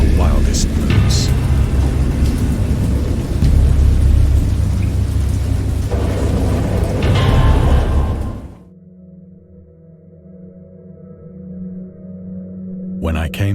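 Heavy rain and rumbling thunder roar loudly for several seconds, then cut off abruptly to a much quieter, hollow background.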